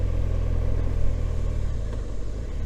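A GS motorcycle fitted with crash bars rumbles steadily at close range while being ridden, a low, even engine drone with no talking.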